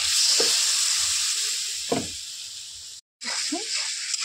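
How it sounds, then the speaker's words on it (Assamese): Fish curry with dried fish sizzles and bubbles steadily in a pan with a few brief stirring scrapes and a short dropout near the end. "এতিয়া এই মাছখিনি মই ধুনীয়াকৈ উতলিবলৈ দিওঁ।"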